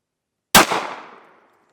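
A single sharp pistol shot as an aged hollow-point bullet is fired into a gel block, one loud crack that rings out and fades over about a second, with no voices.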